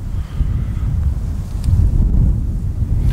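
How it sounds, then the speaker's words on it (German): Strong wind blows across an outdoor fireworks test site, a continuous low buffeting rumble against the microphone that surges and eases without pause. "Wind ist wohl auch schlimm heute."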